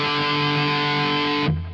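Electric guitar played through an Electric Eye Audio Thrasher distortion pedal with the gain turned up rings out as one loud, fuzzy, sustained chord that cuts off abruptly near the end.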